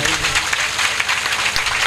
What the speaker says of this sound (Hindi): एक बार जोरदार ताली अपने लिए तो बजा ही लो